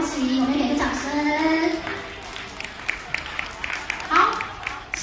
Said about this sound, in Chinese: 来恭喜，我们给个掌声